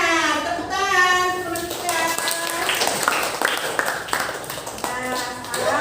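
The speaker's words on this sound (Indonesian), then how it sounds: "Tepuk tangan." Children clapping their hands in a classroom, a lively burst of overlapping claps with young voices chattering and calling out through it.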